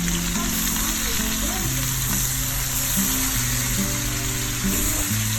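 Sliced onion, tomato, capsicum and chili frying in a pan over medium heat, a dense, steady sizzle close by with a low tonal hum underneath and no speech.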